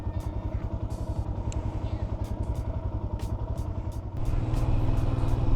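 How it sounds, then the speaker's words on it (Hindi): A motorcycle fitted with Maddog ScoutX auxiliary lights rides along a road at about 40 km/h, its engine giving a steady, close pulsing drone that grows louder and rougher partway through. "हमारी बाइक अब मूव कर रही है"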